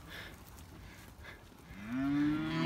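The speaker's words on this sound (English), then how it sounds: "They'd spend less time mooing and more time walking." Cattle moo on a farm, a few soft distant calls at first, then a long, louder, drawn-out moo rising near the end, with no talk.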